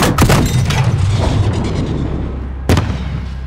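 A grenade blast in Call of Duty: Modern Warfare, a loud booming explosion with a sharp initial burst followed by rumbling debris and a second heavy thump near the end.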